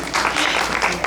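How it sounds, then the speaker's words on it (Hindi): An audience at a Hindi association gathering in Houston gives a short, loud burst of applause to welcome a speaker, dense clapping filling the brief moment without any talk. "तो एक बार जोरदार तालियों से प्राची का स्वागत करें।"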